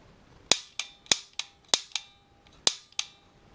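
Sharp, dry trigger clicks from a LaserLyte laser training pistol, seven crisp snaps in an uneven rhythm with short ringing tails, close and clear against a quiet room.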